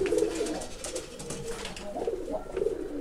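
Pigeons coo over and over in a soft, steady rhythm of low repeated calls, fairly close, with no talking.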